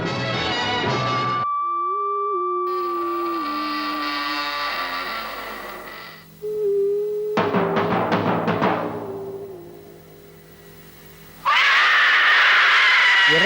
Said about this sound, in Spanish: la sintonía con ese grito tan fuerte y estridente de una mujer al cerrarse una puerta